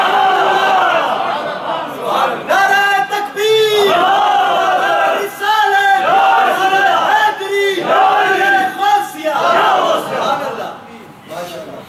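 Large crowd at a religious gathering in Rotterdam roars a chanted response to the Takbir slogan, loud and sustained in repeated surging waves of massed voices that swell and fall for the whole stretch.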